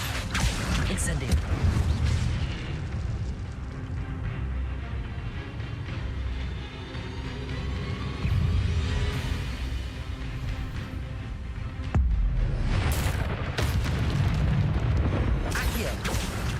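Incendio fire spell cast repeatedly in Hogwarts Legacy, loud whooshing bursts and booming impacts layered with combat effects, surging in waves with a big hit near the middle, while a voice calls out spell names.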